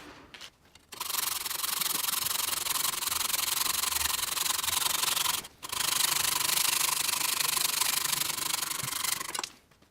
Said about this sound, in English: I'm going to have to finish this with a hacksaw.